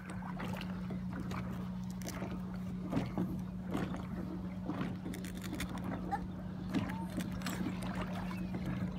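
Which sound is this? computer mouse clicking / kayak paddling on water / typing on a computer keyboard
kayak paddling on water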